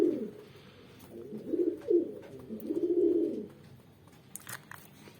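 A pigeon coos in low, throaty rolls, several phrases close by, with faint rustling and a few light taps after.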